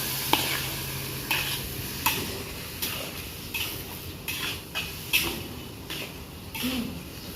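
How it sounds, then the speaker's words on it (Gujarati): Spices tempering for a sev tomato curry in an iron kadai over a medium flame, a soft steady sizzle broken by regular scraping strokes of a ladle, close and fairly quiet, with no talk. "આપણે કઢાઈમાં, લોખંડની કઢાઈમાં વઘાર કર્યો છે"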